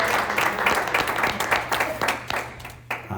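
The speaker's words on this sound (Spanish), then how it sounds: "Dale un aplauso al Señor." A church congregation applauds during a sermon in Miami Lakes, Florida, uneven clapping with some distinct strikes over a low steady hum, thinning out toward the end.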